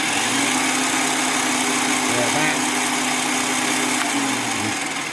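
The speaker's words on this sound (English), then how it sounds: "it's drilling at about 2000 revs per minute" Parkside/Scheppach DP60 electronic bench drill running at about 2000 rpm, a steady close motor whine and hum with constant vibration throughout, a voice speaking over it.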